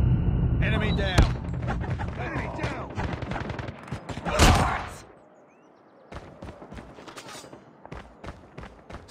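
Rapid automatic gunfire and bursts of shots in the Call of Duty Mobile game, loud and dense, with game voices in the mix and a brief quieter stretch before more shots resume.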